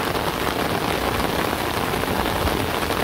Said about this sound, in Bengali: তো বৃষ্টি কিন্তু অনেক ভাবে পড়তেছে